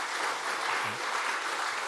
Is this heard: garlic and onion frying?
no